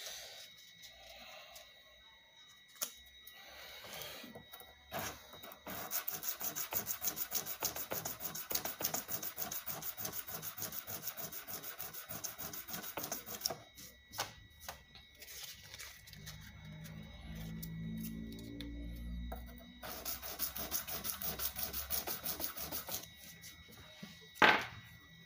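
Sandpaper wrapped on a block rubs steadily across the wooden body of a BC Rich Warlock bass guitar, the paper clogging with finish, giving a continuous close rasping scrape with short pauses and changes of stroke.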